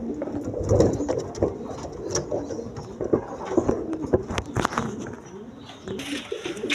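Healthy pigeons kept for sale coo repeatedly in low, throaty bursts, close and fairly loud, with rustling and fluttering among them and occasional bits of speech.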